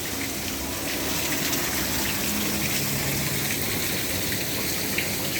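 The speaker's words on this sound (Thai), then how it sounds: "น้ำตก" A constant, dense roar of falling water, loud and unbroken throughout, like standing close to a waterfall, inside a cave-themed exhibit at a rare-plant fair in Muang Thong Thani, Thailand.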